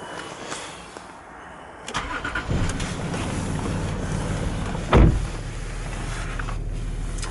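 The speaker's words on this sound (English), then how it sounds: "let's start the engine" A Land Rover Range Rover Sport 2.7 TDV6 diesel engine cranks and catches, then settles into a steady idle, with a brief click and thump midway; close and fairly loud.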